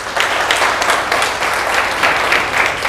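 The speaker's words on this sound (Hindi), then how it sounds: "एक बार जोरदार ताली बजाओ।" Loud, energetic audience applause breaks out at a network marketing leadership training session, many hands clapping in a dense, continuous burst for a few seconds with no pause.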